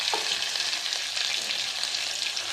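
Garlic, green chili and asafoetida tempering frying in hot oil for a dal, a bright, steady hissing sizzle close to the pan, constant for a few seconds with a faint stir and no talking.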